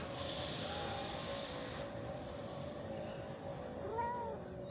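Young kittens meow softly from under a parked car, a brief high call near the end over a constant loud broadband background hum.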